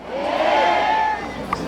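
A trot concert audience at an outdoor ceramics festival cheers and shouts together, a sustained crowd roar that holds steady before easing off, with a faint whoop near the end.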